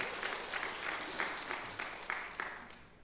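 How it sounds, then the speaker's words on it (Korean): Church congregation applauding during a Korean Bible conference service, a steady, moderately faint patter of many hands with a few sharper claps standing out. "여러분 축복의 박수 한번 해주시길 바랍니다."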